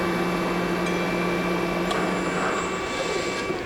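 A Southwest Industries TRAK DPM SX3 3-axis CNC bed mill, new in 2007, runs its spindle with a steady, loud mechanical hum and whine, constant and unbroken, with no talk.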